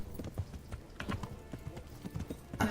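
Rhythmic hoofbeats of a horse galloping in the video game Kingdom Come: Deliverance, thudding in quick repeated clusters, fairly close, ending with a louder burst.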